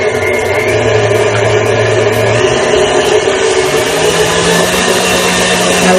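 Electric stand mixer whisking egg whites for meringue in a kitchen, a loud steady whirring motor drone with a shift in pitch partway through as the speed changes.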